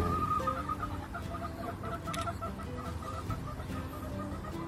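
Chickens in a newly built coop cluck softly while small chicks peep in short scattered bursts, fairly close with a low background hum.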